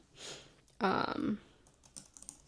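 Typing on an iPad's on-screen or attached keyboard, a short burst of quick taps grouped into one dense flurry, fairly close and clear, with a few scattered lighter taps around it and no talking.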